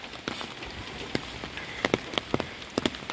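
Rain pattering steadily on a morning walk, with scattered sharper drops and taps standing out over a soft, fairly quiet wash.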